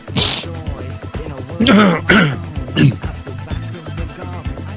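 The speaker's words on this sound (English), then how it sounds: "I had to clear my throat a bit." A man clears his throat several times, with harsh rasping bursts and short coughing sounds close to the microphone, separated by brief pauses.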